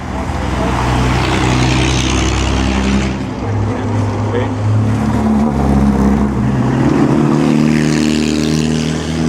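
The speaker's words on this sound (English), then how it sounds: "Here's this pre-war Alfa Romeo." A pre-war Alfa Romeo driving in the Mille Miglia road race, with a loud, droning engine and road roar that swells and shifts as it passes nearby.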